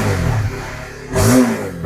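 A 2021 Honda CBR motorcycle engine idles steadily, then swells into a short rev that rises and falls back near the end, close and fairly loud with no talk.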